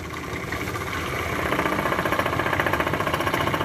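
A small engine on a friction test machine, running on Petrolube-treated oil, ticks over steadily and close by with an even, rapid rhythmic pulse that grows slightly louder and shows no heavy knocking.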